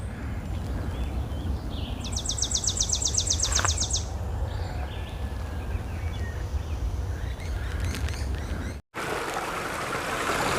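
Mountain stream on the Appalachian Trail flowing steadily in a broad, continuous wash, with a brief bird trill partway through and a short dropout near the end.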